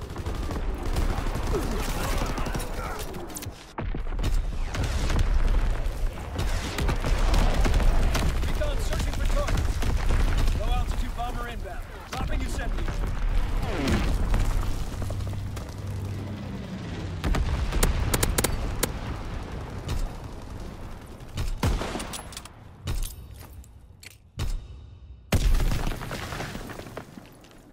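Artillery barrage in a World War II shooter game on the Carentan map: repeated heavy booms and crashing impacts with gunfire in between, loud and near, coming in irregular bursts, with radio-style voices speaking over parts of it.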